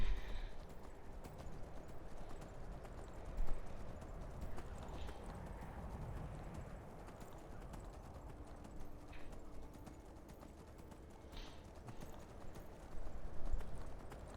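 A horse's hooves clip-clop in the Skyrim video game, a faint, steady patter of footfalls set against a dense wash of background ambience with no speech.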